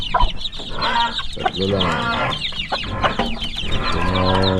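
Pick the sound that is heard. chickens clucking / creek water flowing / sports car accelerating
chickens clucking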